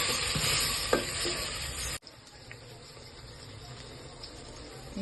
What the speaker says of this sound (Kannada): ಈಗ ಟೊಮೆಟೊ ಪ್ಯೂರಿ ಚೆನ್ನಾಗಿ ಕುದೀತಾ ಇದೆ